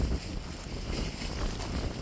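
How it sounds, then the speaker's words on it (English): Strong wind at a lake in winter roars continuously across the microphone, a dense buffeting rush with no pauses or voices. "Wind's really picking up right now, out of nowhere"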